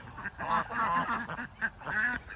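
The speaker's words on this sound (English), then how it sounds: "That looks like a male Welsh Harlequin to me." Male Welsh Harlequin duck giving a run of loud, raspy calls in close succession, near and alone with no talk over them.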